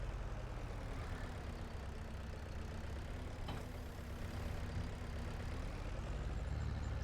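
Tractor engine in Farming Simulator 22 runs at a steady low drone, a constant heavy hum with no clear changes in pitch, alone without speech.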